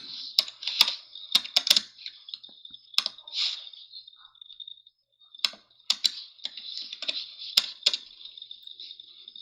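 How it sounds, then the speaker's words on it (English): Rapid computer keyboard typing in sharp bursts of clicking keystrokes with short pauses between runs, close and fairly loud, with no talking. "Hit the keyboard hard so he can find you what you are looking for."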